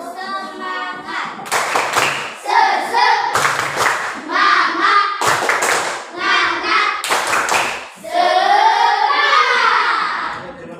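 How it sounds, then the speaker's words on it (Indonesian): Schoolchildren in a classroom perform a rhythmic cheer for group three, sharp bursts of unison clapping alternating with loud chanted voices in a repeating pattern. "Mari kita tepuk semangat"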